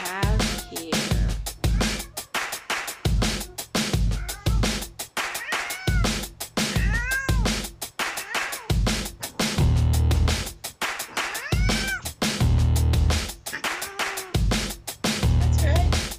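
A cat meows repeatedly and loudly between heavy rhythmic breaths, the calls and breathing mixed with bursts of music-like sound throughout.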